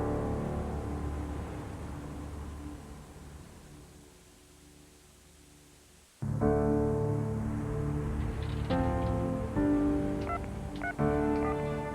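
Local telephone number being dialed, a run of short tonal beeps after a noisy stretch and an abrupt cut, the tones stepping along at close range.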